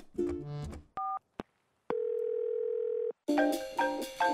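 A telephone dial tone on a call to a friend, with a couple of short beeps before one steady tone of about a second. Speech or music comes before and after it.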